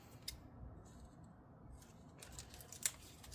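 Double-sided acrylic tape is snipped once with a sharp, close, brief cut near the end, after a few faint rustles and light handling noises in a quiet room.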